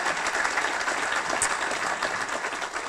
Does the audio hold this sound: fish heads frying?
no